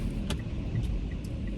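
A Mitsubishi Outlander reverses out of a car wash bay with a low steady engine rumble, heard close and continuous, with a few faint higher clicks over it.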